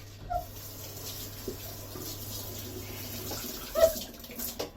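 Running tap water splashing into a sink while a pan is washed out after cooking chicken tikka masala, a steady broadband wash with a few clatters near the end.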